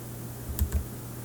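Two quick, close key presses on a computer keyboard, the F5 key tapped while running code, crisp clicks in a quiet room with a faint steady hum.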